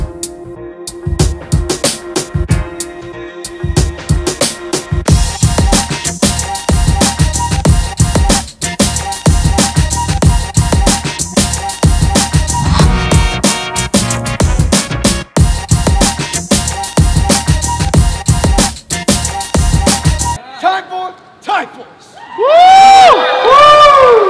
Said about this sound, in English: Another big round of applause for our special guests.